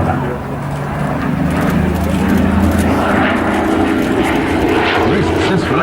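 A WWII propeller fighter, among Grumman cats and an F4U-4 Corsair at the Flying Legends 2014 airshow, drones with a loud, steady engine roar throughout while an announcer talks over it.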